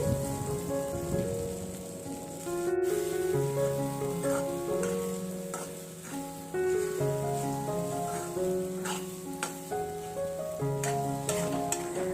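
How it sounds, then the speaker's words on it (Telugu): Three eggs sizzle softly in a pan for Indian masala egg bhurji while being stirred, and a steady crackle sits under sustained background music tones. "ఇలా మిక్స్ చేసుకుంటూ ఎగ్ని కూడా ఫ్రై చేసుకోవాలి"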